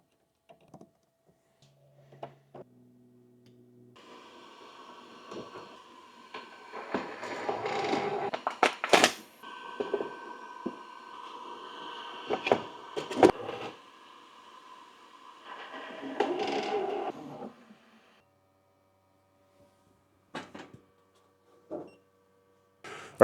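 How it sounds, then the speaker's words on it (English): A 3D printer's AMS filament system fitted with a SUNLU heater draws filament, giving intermittent motor whirs, clicks and mechanical clunks that come in bursts separated by quiet gaps, heard alone and close. "we'll start drawing some filament,"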